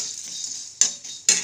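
Flattened rice (atukulu) frying in a pan for kesari prasadam makes a steady close sizzling hiss, with two sharp louder bursts of scraping or stirring partway through.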